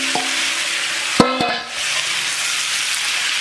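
Already-cooked shrimp sizzle loudly in an oiled pan, a steady close frying hiss with a metal utensil clanking and scraping against the pan as they are stirred.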